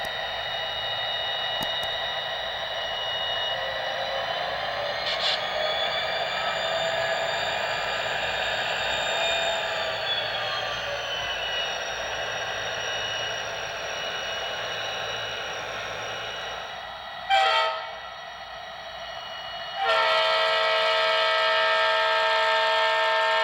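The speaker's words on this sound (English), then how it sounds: "The prime mover also sounds pretty awesome when it's just idling" A model diesel locomotive idles with a steady electronic prime mover drone and turbocharger whine, followed by a brief click and a louder, harsher rumble.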